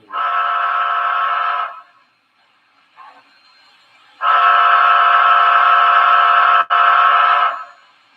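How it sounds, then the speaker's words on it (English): A Central Railroad of New Jersey (CNJ) locomotive steam whistle blows two long, steady chime blasts separated by a pause, with a faint short toot between them; loud and close, no talking. "It's not like the pretty one on the Camelback that I have, but it does sound better than the Banshee whistle."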